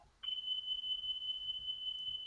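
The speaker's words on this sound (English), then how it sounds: "Is that a fire alarm?" A fire alarm sounds as a single steady, piercing high electronic tone that starts abruptly and holds without a break, fairly loud and alone over faint low background noise.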